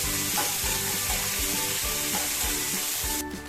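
Seven or eight crushed garlic cloves, half an inch of crushed ginger and two or three green chillies fry in hot oil for Mumbai street-style vada pav, giving a loud, continuous close sizzle with stirring.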